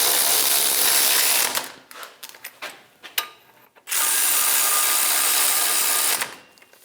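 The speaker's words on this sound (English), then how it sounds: "Snug the bolts down." A ratchet snugging down bolts while a Chevrolet Express front lower control arm and brake parts are installed: a sustained buzzing run, then a few quick clicks, then another long run, fairly close.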